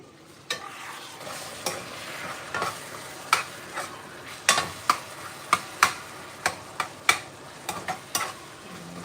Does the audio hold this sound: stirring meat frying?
yes